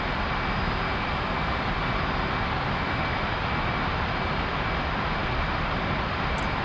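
An F/A-18C jet engine roars in DCS as it comes out of afterburner, a loud, steady broadband rush from the cockpit that holds throughout.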